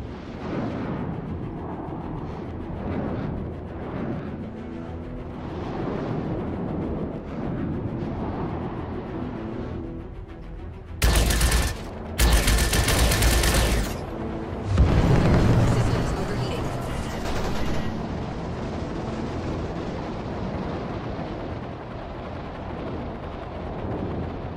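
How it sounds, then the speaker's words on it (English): Missiles fire in a turret-based video game as loud, broadband blasts around the middle, set against constant engine drone and rumbling game sound. "Missile fire."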